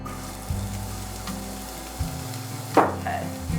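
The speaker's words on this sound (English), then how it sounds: "And then I'm going to add a half a shallot." Half a shallot hits a couple tablespoons of olive oil in a hot pan, giving a sharp burst of sizzling and crackle that settles into a steady fry, with a few low knocks and clatters alongside.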